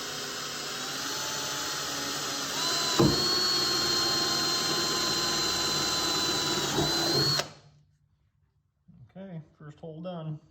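A power drill whines steadily at high speed for several seconds, rising briefly in pitch as it bites into a 1964-1967 Chevrolet Chevelle body for rocker panel molding, then cuts off before a voice speaks.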